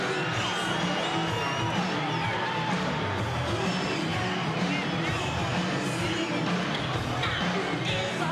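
Sellout boxing crowd in Las Vegas roaring for Sugar Ray Leonard's ring entrance, a dense sustained wall of cheering, whoops and yells that holds steady throughout.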